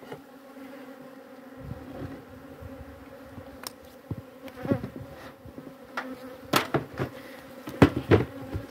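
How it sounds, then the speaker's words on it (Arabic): Bees buzz around beehives split into several colonies, a steady close drone with individual insects passing near, scattered knocks and clicks growing more frequent toward the end. "النحل"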